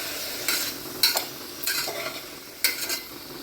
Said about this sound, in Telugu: సో స్వీట్ కార్న్ వేసుకొని ఒకసారి మళ్ళీ ఆ ఉల్లిపాయలు, అల్లం వెల్లుల్లి పేస్ట్ అంతా దీన్ని పట్టేటట్టు ఒకసారి శుభ్రంగా కలుపుకోవాలండి.